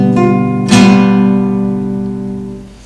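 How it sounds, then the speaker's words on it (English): A sustained five (so) chord rings out on a keyboard-like instrument, with a brighter restrike partway through, then slowly fades; no voices. "the so chord, has got more members and sounds like this"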